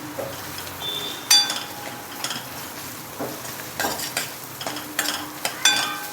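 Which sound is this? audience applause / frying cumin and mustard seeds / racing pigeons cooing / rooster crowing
frying cumin and mustard seeds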